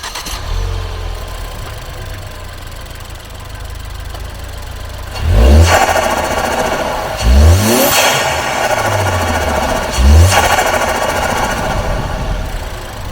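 A tuned Ford Focus ST engine idles with a low rumble, then revs sharply three times, each burst ending in a hissing release from its blow-off valve.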